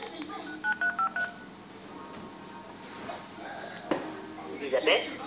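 A telephone keypad is dialed in a home kitchen, giving a quick run of about five short beeping tones near the start, followed by quiet clinks of dishes and a few scattered knocks.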